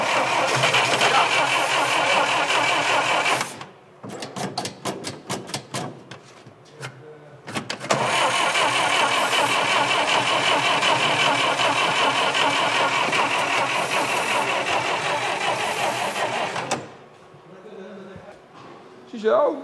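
A GAZ M20 car engine cranks and catches, then runs steadily at a loud, close idle, with a pause and a few sputtering restarts before it settles again and finally cuts off.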